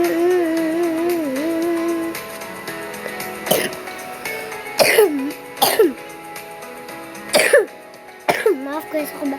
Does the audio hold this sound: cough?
yes